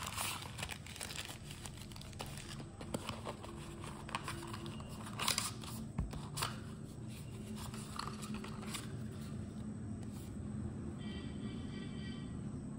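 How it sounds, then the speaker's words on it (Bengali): A pouch being opened during an unboxing of Noise earphones, with continuous close crinkling and rustling of packaging, a few louder crackles midway, and no voices. "আরেকটি এখানে পাউচ পেলাম, এটাকে খুলছি, দেখছি এর মধ্যে কি রয়েছে।"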